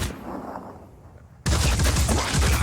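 In the video game Phoenix Point, turrets open fire after a quiet stretch, a sudden loud, dense burst of continuous gunfire rattling on without pause.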